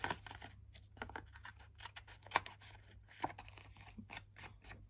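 Scissors snipping paper for garden-themed collage journal cards, a string of close, crisp cuts with a few sharper snips standing out, no talking.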